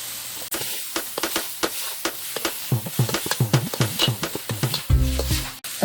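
Fresh garlic sizzling and being stirred in a hot pan for chicken fried rice, with a steady frying hiss and repeated scraping strokes, close and fairly loud.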